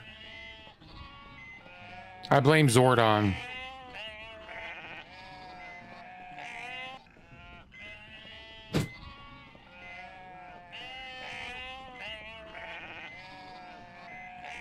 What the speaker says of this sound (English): It's bad enough I gotta go through all these damn sheep.